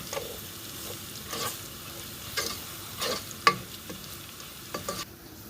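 Garlic fries in a pan as part of a braised trotters dish, a faint, continuous sizzle with soft crackles and a few light stirring clinks.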